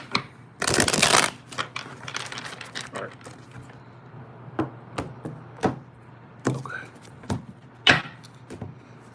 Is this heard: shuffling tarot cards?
yes